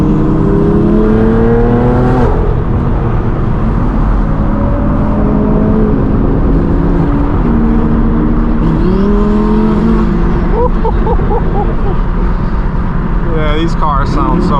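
Straight-piped BMW M4 G82 and supercars including a GT3 and a Huracan driving a wet, green canyon road, with loud continuous engine drone, rising revs and shifts throughout, and a voice talking over it.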